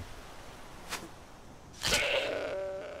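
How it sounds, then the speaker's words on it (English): A goat in the snowy wilds of Skyrim gives a single bleat at close range, a short call followed by a quavering, drawn-out cry that trails off, with a faint earlier sound and quiet ambience beforehand. "A goat."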